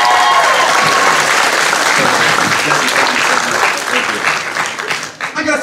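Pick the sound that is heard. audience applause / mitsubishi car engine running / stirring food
audience applause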